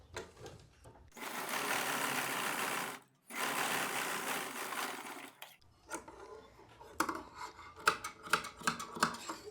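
A sewing machine stitches the side pocket of a pant in two steady runs of a couple of seconds each, then short stops and snips with scissors and handling of the fabric, all close by.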